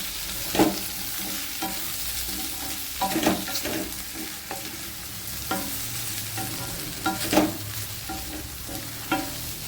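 Potatoes being stirred into softened onions in a pan for a Tamil-style potato fry, with a steady sizzle and repeated scraping stirs of a spatula at irregular intervals, close and moderately loud, no talking.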